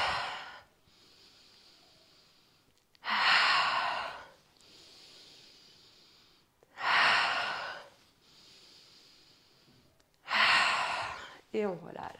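Three long, forceful exhalations during a gentle self-massage exercise, each a few seconds of breathy blowing out, spaced evenly with quiet pauses between them and a brief softer breath at the end; no speech.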